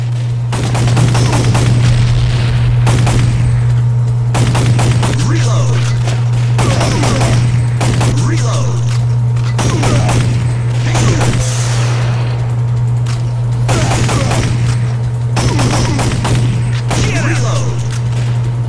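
Rapid gunshots from Time Crisis on the PS1 crack out in regular bursts of loud, sharp reports with a constant low hum underneath, while a voice talks excitedly over the shooting.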